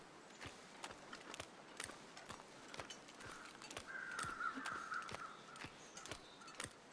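Crows caw in The Long Dark video game. The calls come faint and distant over a string of sharp, regular footstep crunches.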